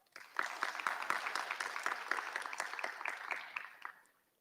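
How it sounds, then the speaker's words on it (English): Applause breaks out for graduates at a Glendale Preparatory Class of 2020 graduation ceremony, a short burst of light, scattered clapping from a small crowd that swells, then fades out after about four seconds. "Let's applaud their names even if they're not here"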